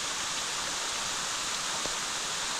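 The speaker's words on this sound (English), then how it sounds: "so here's that waterfall" A creek waterfall at Minyon Falls pours steadily, a dense, continuous broadband rush of falling water, constant and close with no voices over it.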